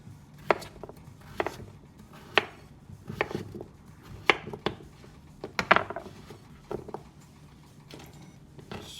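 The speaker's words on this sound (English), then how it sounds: "you want to do little slices, because you're going to make these into mashed potatoes" A knife cuts potatoes into small slices on a cutting board for mashed potatoes, giving close, crisp thuds at an uneven pace of roughly one to two per second, each followed by quieter scraping.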